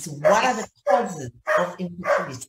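Dogs at home in the evening bark and yip in short, close bursts, mixed in and overlapping with a woman's speech.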